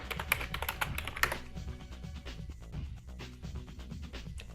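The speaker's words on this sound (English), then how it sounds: "I'm just typing." Rapid keyboard typing clatters alone on a computer keyboard during a Space Station 13 game session, an irregular run of close, crisp key clicks over a low background hum.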